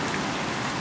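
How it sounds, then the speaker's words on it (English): Sudden rain pours down as a storm arrives, a steady, dense hiss of drops hitting surfaces, close and continuous throughout with no voices. "All of a sudden it just started raining."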